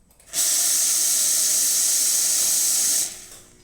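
Lelit Mara X espresso machine dispensing hot water after a safety valve replacement, a steady loud hiss of spraying water and steam running about three seconds alone, then cutting off abruptly.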